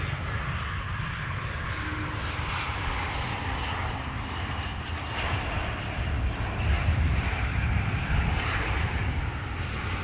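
A KLM Embraer E2 jet lands on the Polderbaan runway at Amsterdam Schiphol, a steady, loud roar of engines that builds slightly and holds for about ten seconds with no talk over it.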